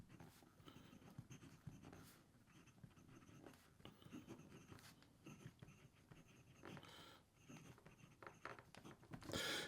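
A stainless steel fountain pen nib scratches and rubs across paper in soft, continuous strokes, faint and close, with small pauses between words.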